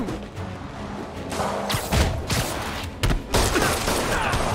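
Gunfire in the video game Marvel's Spider-Man, a dense loud barrage of shots and impacts with a couple of sharper bursts standing out from the constant combat noise.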